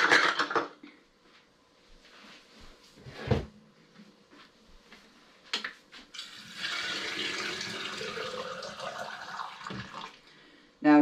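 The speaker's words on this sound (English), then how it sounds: "we're going to go ahead and fill these with water and then seal them up" Water poured from a tap or jug into glass jars of soybeans in a kitchen, a steady rushing pour lasting several seconds near the end, after clinks and handling knocks, close and fairly loud.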